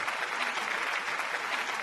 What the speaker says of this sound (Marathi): एकदा खरंच मनापासून पंचमदासाठी एकदा जोरदार टाळ्या झाल्या पाहिजे